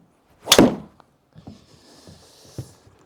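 A golf tee shot on a GolfZon TwoVision indoor simulator at Spyglass lands as one sharp, loud thwack of club on ball and screen, followed by faint scattered knocks and shuffling in the room.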